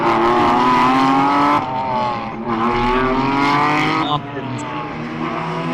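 Race cars lap the Jarama circuit at a classic racing meeting, engines whining and shifting pitch as they pass in the distance, heard steadily beneath a commentator's voice.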